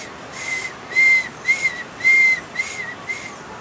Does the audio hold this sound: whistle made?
yes